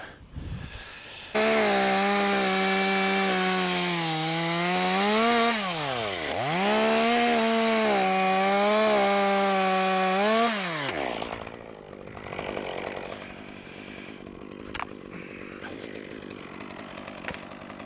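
A chainsaw cuts through a conifer trunk to firewood length, revving loudly and close with its pitch dipping and rising under load for several seconds before dropping off to idle and quiet outdoor ambience.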